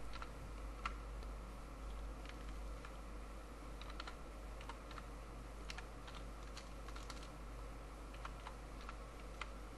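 Faint keyboard taps pick out a Cisco switch configuration command for telnet virtual terminal lines, scattered clicks ticking over a constant low electrical hum, with nobody speaking.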